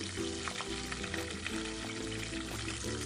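Julienned ginger frying in a restaurant-style Murree Hill chicken karahi, a steady, dense sizzle held throughout with a soft tonal hum underneath and no voices.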